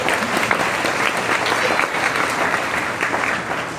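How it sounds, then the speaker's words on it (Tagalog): Steady, loud applause from a big audience, a dense continuous clatter of clapping hands that holds evenly for a few seconds. "Pwede bang muli natin bigyan ng malakas na palakpak ang Panginoon?"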